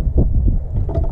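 Wind buffets a microphone outdoors while fishing at Goose Island State Park, a low, steady rumbling roar that fills the brief moment with no voices.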